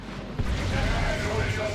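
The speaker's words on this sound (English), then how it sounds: "Plasma cannon charges up." Plasma cannon in the Warhammer 40,000: Dawn of War 2 video game, Space Marines against Tyranids, roaring in a dense low rumble with a heavy boom near the start and sustained blast noise throughout, loud and continuous over battle din.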